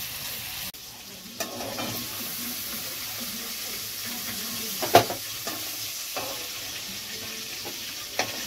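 Cauliflower florets fry in a pan with a steady soft sizzle, while a utensil stirs and scrapes them in occasional sharp knocks.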